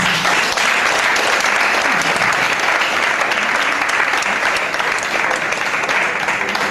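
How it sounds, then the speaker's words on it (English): Loud, sustained audience applause at a Women in Mining conference in Abuja, Nigeria, with dense clapping continuing evenly throughout and no break. "I was hoping that we'll do a grander clap."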